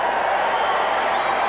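A packed crowd of around 50,000 at Stanford Stadium in Palo Alto, watching a 1993 USA versus Germany soccer friendly, doing the wave, heard as a steady, broad roar that holds throughout without breaks.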